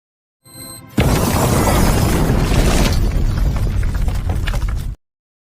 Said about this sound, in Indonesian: Namun ledakan bom itu tidak merubah apapun